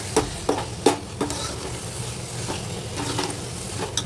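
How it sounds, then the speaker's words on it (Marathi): Dry ginger, fennel and cardamom powder get stirred into a pot of puran, with a spoon scraping and knocking in soft, irregular strokes over a faint sizzle, and nobody speaks. "ते सगळं मिक्स करून घेऊया।"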